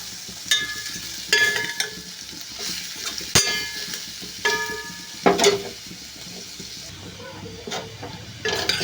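Chopped onions fry in a pan with a soft sizzle, while intermittent stirring scrapes and clatters come through in bursts at an irregular pace, close by with no talking.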